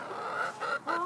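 A Barred Rock hen clucks softly up close in a short run of low, throaty calls with brief pauses between them, and no one talks.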